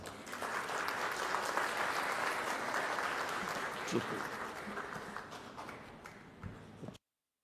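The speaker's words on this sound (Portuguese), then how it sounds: "uma salva de palmas a ele." Applause from the audience at an honorary citizenship ceremony in Goiânia, a broad, sustained clapping crowd in a large hall that holds for several seconds, then thins and stops, with voices faintly underneath.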